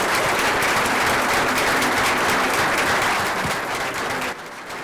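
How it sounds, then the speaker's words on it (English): Sustained applause from an audience at an evening event with candidates present, honoring law enforcement officers; dense, steady clapping that fills the space and tapers slightly near the end. "Can we give a big round of applause to our law enforcement officers here keeping us safe tonight?"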